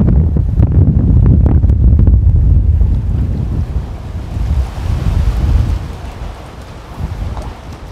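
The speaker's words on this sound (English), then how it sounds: "So I'm right in the ocean." Steady wind buffeting the microphone over rolling ocean waves out at Pelican Bar off Parottee, St. Elizabeth, Jamaica, a loud continuous open-sea roar that eases slightly toward the end, with no voices.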